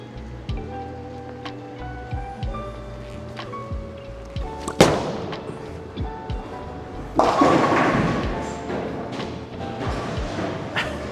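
A Storm Road Warrior bowling ball, a strong reactive ball, rolls down a lane on a house shot with a sharp strike and pin crash partway through, followed by a longer rumbling clatter amid alley background noise.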